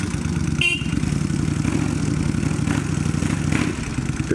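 Kawasaki Vulcan 1500 motorcycle engine running close by, a steady low throbbing idle with mechanical clatter and slight rises in revs, continuous throughout with no talk.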